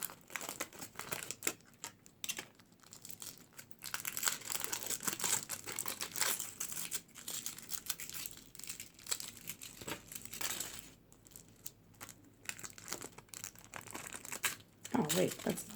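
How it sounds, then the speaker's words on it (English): Foil wrapping around candles and wax melts being opened, giving a close, steady crinkling and rustling that runs through the whole stretch with brief pauses, with speech at times. "let me just get all the foil open"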